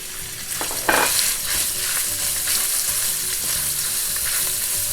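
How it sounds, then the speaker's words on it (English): Ground pork frying in about one and a half tablespoons of hot oil crackles and sizzles steadily up close, with a sharp spatter burst early on and occasional stirring scrapes. "When the oil is hot, put grounded pork in."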